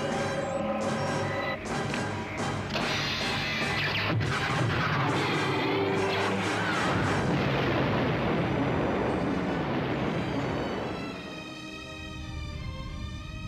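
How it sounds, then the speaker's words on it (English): Death Star super laser firing in a Star Wars interactive VHS board game, a long, loud, continuous blast with rumbling explosive texture that swells and then fades into a high whining tail. "Admiral, fire the super laser."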